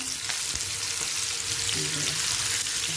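Stuffed calamari frying in a pan over low heat, a dense continuous sizzle and crackle that fills the whole stretch, close and steady with faint stirring.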